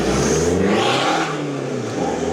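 A rebuilt VW Scirocco engine revs hard up close, its pitch rising and then easing as the car pulls away, loud and continuous with no voices.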